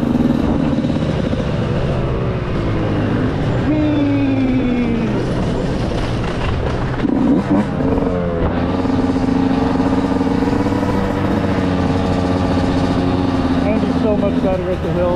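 Enduro motorcycle engine running steadily throughout, with a droning tone that rises and falls as it revs, close and loud, while people talk over it.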